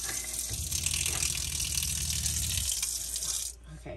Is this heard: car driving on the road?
no